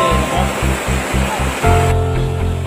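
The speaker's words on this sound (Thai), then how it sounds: "อากาศเย็นแล้วก็มีน้ำตกไหลออกจากถ้ำนะครับ" Water pours from a cave in a steady, loud rush, like a waterfall spilling out into cool air. A low rhythmic thumping runs underneath the flow, which fills the whole scene.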